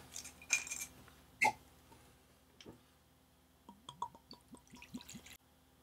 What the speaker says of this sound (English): Now let's get this open and have a pour.